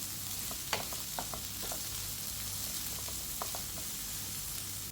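Long beans stir-frying uncovered in a pan, a constant crackling sizzle broken by a few sharp clicks of a spatula scraping and tossing, with no voices.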